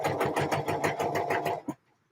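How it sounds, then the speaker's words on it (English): A sewing machine stitches the armholes of a dress, running in a fast, even, rhythmic burst close by, then stopping abruptly into near silence. "I really prefer sewing up the armholes by machine rather than by hand"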